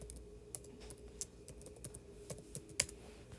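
Password being typed on a computer keyboard: a short run of close, crisp key clicks in an uneven rhythm, with a few sharper taps standing out, alone in a quiet room.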